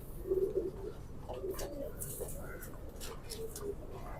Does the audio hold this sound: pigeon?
yes